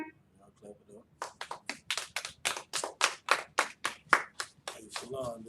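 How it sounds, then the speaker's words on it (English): A small audience at a Houston law class claps in a loose, rhythmic burst of sharp individual hand claps that builds after a quiet start, fairly close and alone without talk. "Y'all clap it up"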